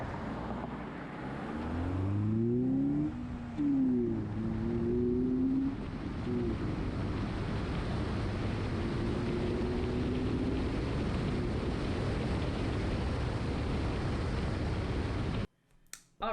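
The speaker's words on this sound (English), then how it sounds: "roll the footage showing you what the engine compartment sounded like with the Takeda Cold Air exhaust." Close-up sound of the engine compartment of a 2012 Subaru Legacy fitted with a Takeda cold air intake: a steady engine drone with rising and falling pitch swells early on, continuing evenly until it cuts off abruptly near the end.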